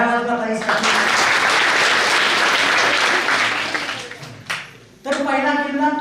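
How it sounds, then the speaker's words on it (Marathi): Audience applause in a hall during a Marathi lecture on Chhatrapati Shivaji, loud sustained clapping for about four seconds that dips briefly, with a speaker's voice audible before and after. "टाळ्या वाजवा ताई."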